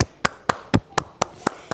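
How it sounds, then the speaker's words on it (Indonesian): Schoolchildren clap together in a classroom to applaud a classmate's group, eight sharp, evenly spaced claps at a brisk steady beat, close and fairly loud with no talk over them. "Kita beri tepuk tangan yang meriah dulu anak-anak kepada Hadi dan kelompoknya."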